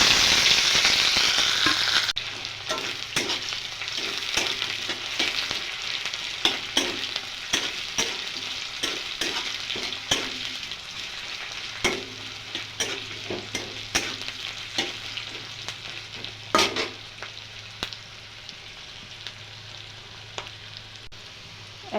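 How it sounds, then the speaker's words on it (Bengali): Chopped onion drops into hot oil in a kadai with dried red chilli, bursting into a loud sizzle that settles into a steady fry. Frequent sharp stirring clacks and scrapes of a spoon against the metal run throughout. "এখন দিয়ে দেবো এই যে পেঁয়াজ কুচি।"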